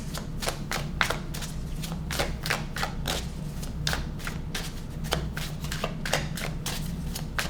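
Tarot cards are shuffled in rapid, crisp riffling bursts, close up and repeated in a steady rhythm over a low background hum.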